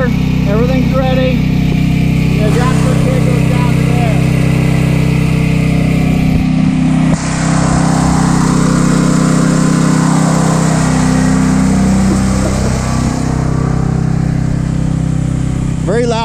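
A petrol generator running on gas after a fuel system modification, a loud steady engine drone inside a small enclosure, close and continuous with a shift in tone midway, with speech over it.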